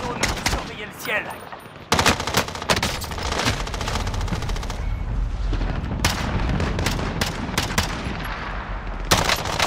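Rapid automatic gunfire from the video game Call of Duty: Modern Warfare, loud, close bursts of shots that pound almost continuously, with brief lulls and heavy booming impacts underneath.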